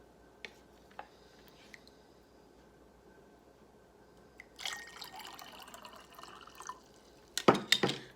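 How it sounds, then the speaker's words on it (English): Water is poured into a measuring cup, heard as a few sparse drips followed by a few seconds of splashy filling, then a louder, brief burst of pouring and splashing at the end; close and otherwise quiet. "I've poured in another 1/2 cup and now it's a full 1 cup."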